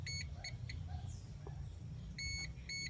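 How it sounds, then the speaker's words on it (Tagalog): Short electronic beeps from a multimeter continuity test, a few quick pulses at the start and again at the end, heard over a steady low hum. "Pagka ito ay naka full wave, kailangan ito ay mag beep sound."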